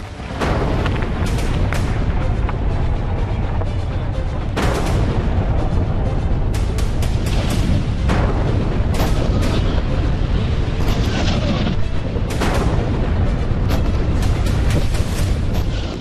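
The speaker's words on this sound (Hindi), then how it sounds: "बम पर बम बरस रहे हैं" Continuous heavy bombardment in wartime Gaza, with dense rolling booms and blasts that keep a loud, rumbling roar going without pause, and sharper cracks flaring up every few seconds.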